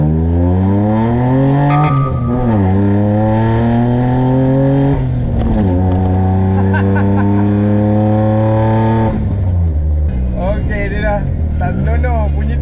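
A car fitted with a new exhaust revs and accelerates hard through several gear changes, a loud close engine note climbing and dropping repeatedly, with people talking over it.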